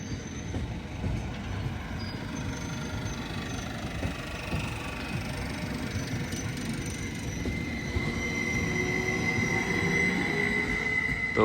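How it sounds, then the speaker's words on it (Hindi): Regional train passing a level crossing in Oldenburg, Germany: a steady, loud rumble of rolling wheels with a thin squeal rising later, continuous throughout, no voices. "ये रीजनल ट्रेन है।"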